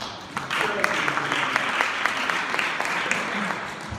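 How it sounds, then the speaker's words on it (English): Steady applause from a meeting crowd fills a room, dense and continuous with scattered sharper claps, as attendees of a county Black Caucus leaders' meeting clap for a volunteer. "Let's give her a round of applause."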